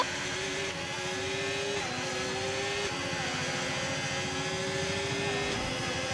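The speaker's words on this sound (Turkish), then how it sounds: "abi araba sesi" A car engine hums steadily nearby, its pitch rising through a few gear shifts as it accelerates, continuous and moderately loud.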